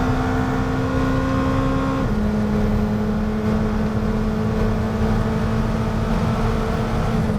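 A 2019 McLaren Senna accelerates hard on a track, its engine a loud, steady, close-up roar with a sharp pitch drop at an upshift partway through, followed by continued strong pull.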